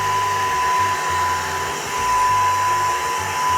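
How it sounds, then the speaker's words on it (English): A Eufy Mach V1 Ultra vacuum cleaner runs with a steady whirring motor hum and a thin high whine, fairly quiet and close, its pitch shifting slightly as it moves. "Compared to most vacuums, I'd actually say it's pretty decently quiet."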